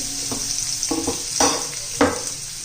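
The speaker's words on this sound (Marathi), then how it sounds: "चांगला असा परतून द्यायचा." Onion sautés in hot oil with bay leaf, clove, peppercorns and ginger-garlic paste, a steady close sizzle under several brisk scraping stirs of a spoon against the pan.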